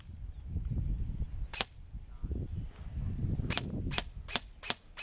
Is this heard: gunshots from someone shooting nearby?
yes